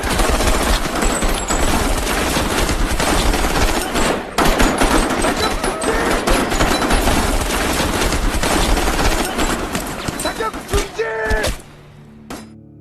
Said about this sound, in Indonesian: Ketika sudah sangat dekat, mereka langsung menembaki para tentara Korea Utara tersebut hingga semuanya tewas.